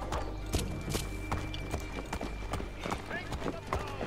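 Horse hooves clip-clop steadily at a running gait in Assassin's Creed III, loud and close over a continuous low rumble of game ambience and music, with no talking.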